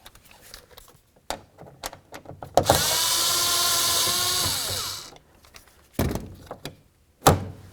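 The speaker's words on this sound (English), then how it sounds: "I'm going to start right here by removing this Phillips head screw." A power drill or driver whirs steadily for a couple of seconds while removing a Phillips head screw from a 1994-2004 Chevy S-10 door panel, surrounded by close clicks, taps and handling noises.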